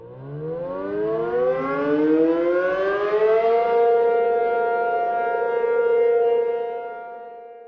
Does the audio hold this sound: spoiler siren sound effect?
yes